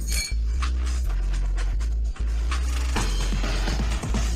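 Glasses clink together repeatedly during a celebratory toast at a welcome-back gathering, a series of bright, close chinks over a steady low background hum.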